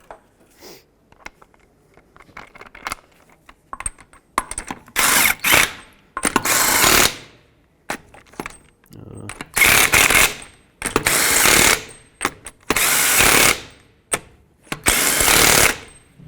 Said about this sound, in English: Start on all 5 of your lug nuts, snug them up, and then I'll torque them to 80 foot-pounds.